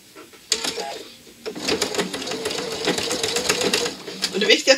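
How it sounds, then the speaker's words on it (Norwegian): A sewing machine stitches fabric with a fast, rhythmic mechanical clatter that starts and stops, running in close bursts with brief pauses between. "Nå har jeg markert at jeg skal sy ned her"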